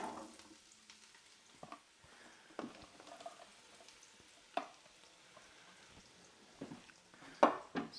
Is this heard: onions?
yes